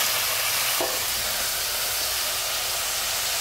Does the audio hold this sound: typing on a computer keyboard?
no